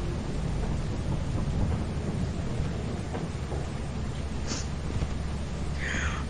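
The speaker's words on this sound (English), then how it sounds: "Oh, there's lightning! There's lightning!" Thunder and rain in the Lethal Company video game, a continuous loud rain hiss with low rumbling and a faint crackle near the end, no talking.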